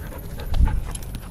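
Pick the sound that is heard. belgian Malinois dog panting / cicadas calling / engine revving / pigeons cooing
belgian Malinois dog panting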